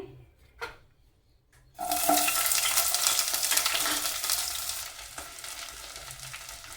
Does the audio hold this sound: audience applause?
no